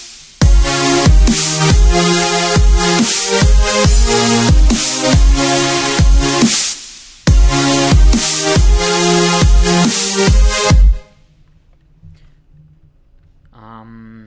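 Loud, bright supersaw synth chords in an electronic dance track, stabbed in a fast repeating rhythmic pattern with a short gap, then cutting off abruptly before a faint tail, with no talking.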